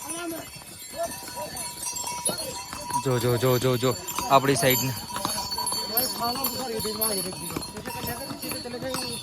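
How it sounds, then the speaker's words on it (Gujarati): Horses and mules walk along the Kedarnath pilgrimage trail, hooves clip-clopping steadily nearby beneath people talking and calling out. "જો ઘોડા પેલી સાઈડની લાઈનમાં ઘોડા હાલવાને બદલે જોઈ લો ક્યાંથી હાલે છે"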